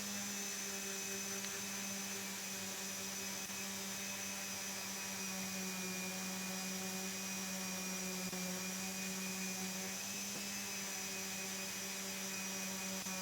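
Steady power sanding of a wooden bandsaw box, a continuous even drone with a constant pitch running unbroken throughout, fairly faint with no voices.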